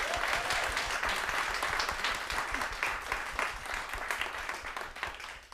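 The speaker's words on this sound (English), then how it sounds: "Let's give another round of applause" A live audience applauds after a music performance in a small room setting, sustained steady clapping from many hands that fades slightly toward the end.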